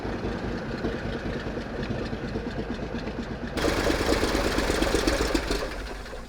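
Left engine of an old airplane abandoned for twenty years runs steadily after starting, a close, loud rumbling drone that grows louder and fuller partway through, with no talking.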